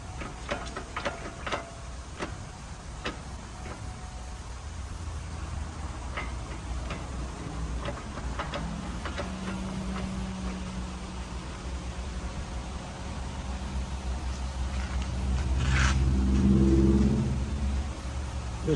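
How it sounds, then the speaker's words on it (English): Repeated sharp ticking clicks from the axle of a Volvo V50 T5, spaced irregularly over a steady low engine and road rumble, with the engine swelling louder near the end. "This sound like an axle"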